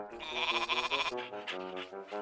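A lamb bleats in a few wavering, nasal calls, close and clear, with short breaks between them.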